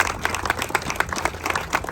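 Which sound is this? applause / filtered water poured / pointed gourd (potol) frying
applause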